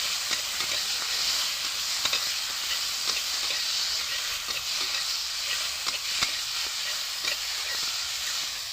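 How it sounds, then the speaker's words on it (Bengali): Spoon stirring a curry mixture with poppy seed and cashew paste in a hot pan, steady sizzling hiss with soft irregular scraping clicks, close and continuous. "এবারে সব একসাথে ভালো করে মিশিয়ে নেব"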